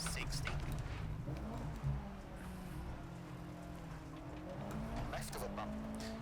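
Rally car with radiator damage driving on Sardinian stages in EA WRC, engine droning and shifting pitch under continuous talking, with a brief bump partway through.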